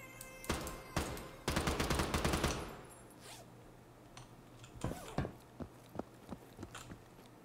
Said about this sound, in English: Sounds a bit weird with the rapid fire